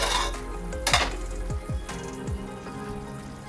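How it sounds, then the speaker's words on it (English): A metal lid is set onto a pan of cauliflower kofta gravy, a few sharp clanks and scraping knocks near the middle over a soft background hiss, then quieter simmering. "Now I'll cover the pan and let the gravy cook for 4 to 5 minutes"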